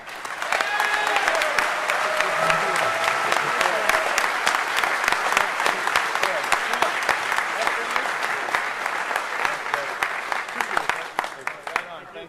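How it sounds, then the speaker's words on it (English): Hacker conference audience at closing ceremonies breaking into long, steady applause, dense clapping sustained evenly throughout with some crowd noise mixed in. "Let's give them an incredible round of applause"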